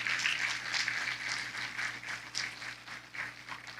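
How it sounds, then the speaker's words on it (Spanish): Church congregation applauding together, a steady soft wash of many hands clapping at moderate distance, fairly even and sustained with slight swells throughout. "Dale un fuerte aplauso al Señor."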